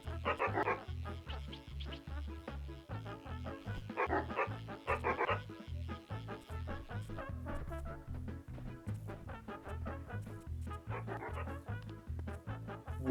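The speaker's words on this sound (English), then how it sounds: "Look, the Riles is barking." A dog barking in the video game Webfishing, a run of repeated yips and woofs over steady low game music, fairly close and continuous throughout.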